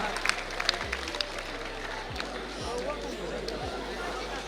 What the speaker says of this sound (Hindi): कृपया करके जोरदार तालियों से स्वागत करें जमुई और खगड़िया डिस्ट्रिक्ट के बच्चों का।